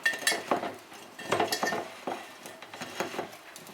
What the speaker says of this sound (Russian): Теперь нам надо баклажаны посолить. Хорошо перемешиваем.